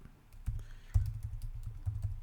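Computer keyboard typing while building a legend in Revit MEP 2025 software: a run of soft, close key taps in an uneven rhythm, with a couple of heavier keystrokes standing out, no voices.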